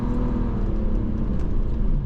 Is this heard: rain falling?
no